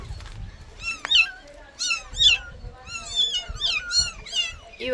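A small kitten meows repeatedly in a series of rising, squeaky cries, close and fairly loud, with short pauses between calls and faint background noise.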